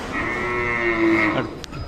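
A Khillar cow at a livestock market in Sangola, Solapur gives one loud, close, sustained moo lasting about a second and a half, followed by faint market background noise.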